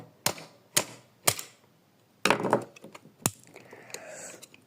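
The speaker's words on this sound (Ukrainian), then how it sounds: "все, скло вибито. Все повністю вибито скло." Glass is smashed out of a car window: several sharp, loud strikes land at irregular intervals, with a crunching shatter midway and scattered crackles of breaking glass afterward.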